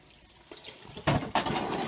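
Ice cream machine components are washed under a running tap, with water splashing and gushing in several bursts that grow louder toward the end.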